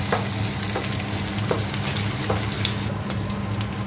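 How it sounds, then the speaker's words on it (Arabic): Onions sizzling steadily in a pot while frying for Yemeni mandi rice, with occasional scraping clicks of a utensil stirring them; close, continuous crackle with no talking. "نحرك البصل لين شوية تحمر يصير لونه ذهبي"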